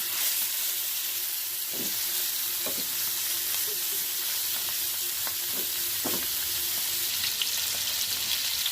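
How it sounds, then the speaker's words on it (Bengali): Continuous loud sizzle of hilsa fish frying in hot oil after being flipped, with a few brief scraping stirs scattered through. "মাছগুলো উল্টে দিচ্ছি। এক পিঠ ভাজা হয়ে গেছে।"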